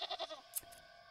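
A goat in the video game Wytchwood bleats in a few quick, faint wavering calls, followed by a brief sharp snip-like sound, with no talk over it.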